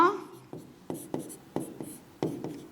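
Chalk or marker writing out Sanskrit grammar forms during a Class 7 Sanskrit lesson: a series of sharp, close taps and short strokes in an irregular rhythm, with a brief bit of speech right at the start.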